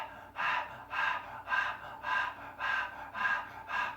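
Deep, forceful breathwork breathing with a constricted throat, seven evenly spaced rhythmic breaths close to the microphone, each a strong rushing inhale or exhale, with no talking.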